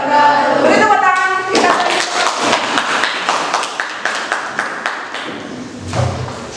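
A classroom audience applauds after a group presentation in a teacher training session at a university in Malang: loud, dense clapping from many people fills the room, gradually thinning into scattered individual claps near the end.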